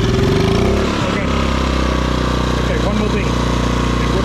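A Yamaha generator's small engine runs steadily with a low, continuous drone and rumble close by, while someone speaks over it briefly.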